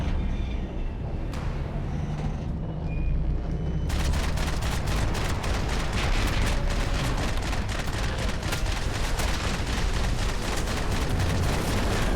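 Gunfire in the video game Max Payne 3 starts after a quieter opening, then a dense stretch of rapid shots and bursts continues loudly and almost without a break.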